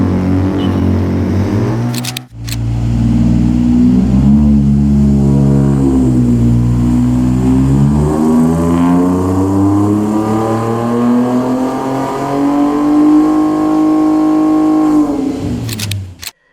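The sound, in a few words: 2025 Ford Ranger Raptor V6 with Magnaflow exhaust revving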